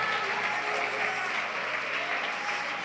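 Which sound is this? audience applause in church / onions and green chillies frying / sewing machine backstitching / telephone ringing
audience applause in church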